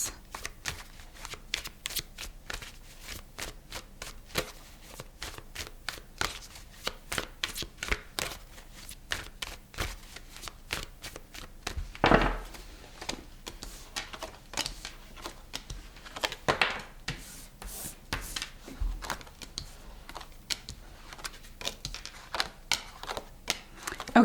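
Tarot cards are shuffled by hand in a steady run of crisp, papery riffles and flicks, close and fairly quiet, continuing for about twenty-four seconds with no talking.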